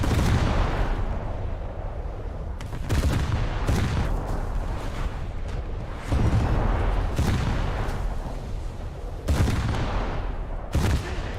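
Battleship main guns in a naval warship video game boom out in repeated heavy salvos, each a loud broadband blast followed by rumbling decay, arriving every few seconds over a constant low engine and ocean din, with no talk.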